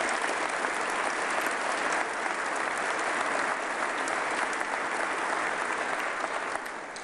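A big round of applause from the audience at a state-of-the-state address, dense and continuous clapping that holds steady the whole time before easing off slightly at the very end.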